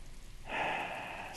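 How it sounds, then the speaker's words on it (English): Rain starts falling in the video game Breath of the Wild, a soft steady hiss swelling in partway through and holding as a continuous wash, alone and moderately quiet. "It's raining."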